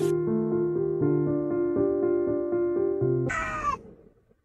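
A ginger cat meows in a long, drawn-out, tonal call with wavering pitch, then lets out a sharper, higher cry near the end before falling quiet; close and clear with no talk.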